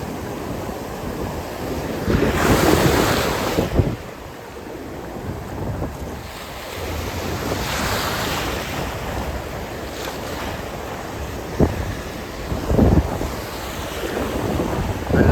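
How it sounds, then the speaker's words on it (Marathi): Sea waves break and roll at the shore while strong wind buffets the microphone, with loud surges of surf rising and falling throughout; a fishing trip setting with boats nearby. "लाटा बघा मित्रांनो भरपूर आहेत"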